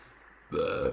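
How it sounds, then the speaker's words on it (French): A single loud burp erupts abruptly after a quiet moment during a live stream, lasting about half a second with no talk over it. "Oh pardon, j'ai roté"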